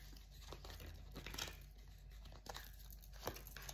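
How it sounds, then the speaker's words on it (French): A deck of tarot cards being shuffled, a close, soft run of papery riffling and crinkling with a few sharper snaps, alone and quiet. "Hop, on va rebattre les cartes."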